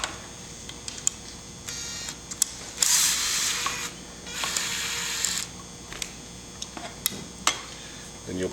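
Screws being removed from the wheel and handle assembly of a Vessix bag, heard as light metallic clicks, ticks and brief scraping rattles up close, with a couple of short louder rustling bursts.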